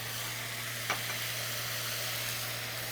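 Minced garlic added to a hot pan, giving a steady soft sizzle throughout with one brief clink or stir near the start, faint and close, with no talking.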